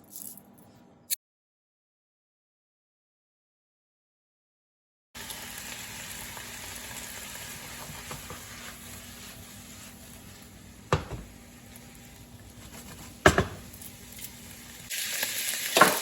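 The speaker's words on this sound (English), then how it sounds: "We're gonna add our vegetables. We're just gonna saute that up." Vegetables sautéing in hot oil for a vegetarian coconut curry: a steady, close sizzle starts after a brief silence, with occasional clinks and stirring scrapes.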